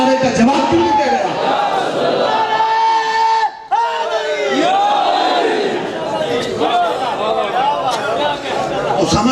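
A large crowd at a religious gathering in an imambargah shouts a slogan together in response. The voices are loud and sustained, with a brief break midway before the chanting resumes.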